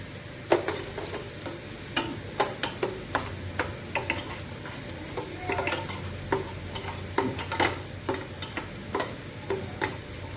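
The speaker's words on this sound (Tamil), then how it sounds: "லைட்டாக வதங்கட்டும். இப்போ நம்ம கருவேப்பிலையும் வெங்காயம் போட்டுக்கலாம்." Curry leaves and onion sauté in hot oil with garlic for a sundakkai kuzhambu, a soft continuous sizzle punctuated by frequent sharp clicks and taps of a ladle stirring the pan, with no one speaking.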